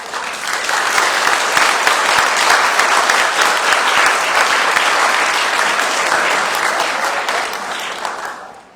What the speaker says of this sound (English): Thank you for clapping for them.